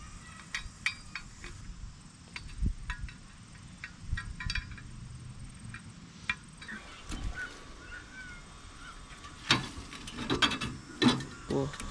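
Fasteners are tightened on a condensing fan motor during installation, making quiet, irregular mechanical clicks and ratcheting in short bursts over a low background hum.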